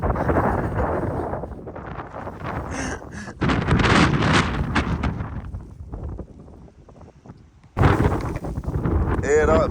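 Strong wind gusts roar across a campsite at Rana e Hedhun, buffeting the microphone with loud, rushing broadband noise that rises and falls, under intermittent talk.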